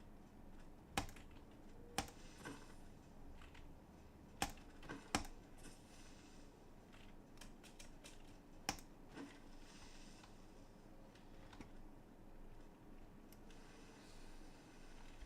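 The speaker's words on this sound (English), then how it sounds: "I'm pretty sure you can actually hear my, keyboard also" Faint typing on a computer keyboard continues throughout, with scattered sharp key clicks and a few louder taps standing out against a steady low background hum.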